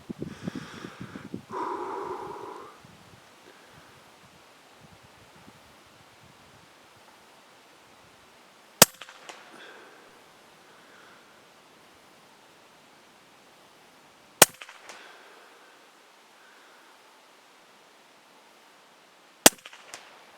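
Three sharp, isolated shots from a Huben K1 air rifle firing Barracuda Match pellets, spaced several seconds apart, each crisp and brief over steady outdoor wind noise.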